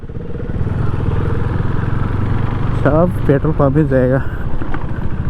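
KTM Duke 390 BS4 motorcycle engine idling and rumbling steadily up close at a petrol pump on a group Sunday ride, with a voice talking over it midway.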